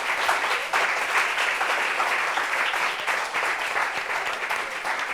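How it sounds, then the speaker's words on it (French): A studio audience applauds a guest, dense continuous clapping from a crowd, loud and sustained with faint voices mixed in. "Applaudissements pour lui, s'il vous plaît."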